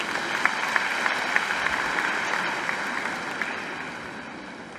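An audience applauds a presentation to the Prime Minister at an International Women's Day ceremony in Mauritius; sustained, dense clapping with a few sharper nearby claps, slowly tapering toward the end.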